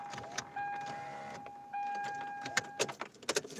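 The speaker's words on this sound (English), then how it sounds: "Gotta roll up the windows." A car's power windows are rolled up in two separate runs, each a steady electric motor whine that stops with a soft thud, followed by a few small clicks and knocks inside the quiet cabin.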